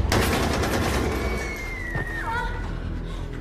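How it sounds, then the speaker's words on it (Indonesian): Gunfire in an apocalyptic film where soldiers fire and one is hit by stray rounds from his own troops, a dense continuous burst of shots under a swelling music score, with a long whistling tone sliding across the middle. "Parulian harus gugur terkena tembakan nyasar dari pasukannya sendiri."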